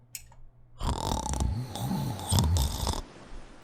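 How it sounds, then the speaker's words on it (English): Loud, rough snoring rumbles in a few uneven pulses over several seconds, close and dominant, with no talk. "snoring so loud I could hear him from the corridor"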